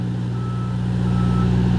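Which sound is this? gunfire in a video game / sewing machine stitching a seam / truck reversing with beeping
truck reversing with beeping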